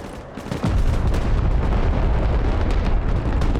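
A heavy blast erupts and rolls into a sustained, loud, rumbling roar as artillery explosions destroy coastal artillery in Broken Arrow, with crackling bursts scattered through the din.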